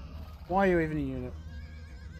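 A cavalier horse unit in Age of Empires 2: Definitive Edition gives one clear, loud whinny lasting under a second, with someone talking over the game sounds.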